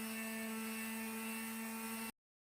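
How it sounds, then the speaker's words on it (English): Steady power sander running on a furniture drawer with 150 grit sandpaper, stripping old finish from the veneer: a constant droning whir with a strong hum, held evenly, then cut off abruptly near the end. "I'm coming in with 150 grit sandpaper to remove the finish"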